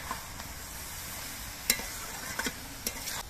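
Chopped coriander being stirred into flat beans (shim) cooking in a pan, with a soft steady sizzle and a few sharp spatula scrapes and taps against the pan, close and fairly quiet.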